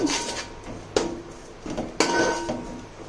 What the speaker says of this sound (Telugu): ఉప్పు పసుపు వేసిన తర్వాత బాగా కలుపుకోవాలండి.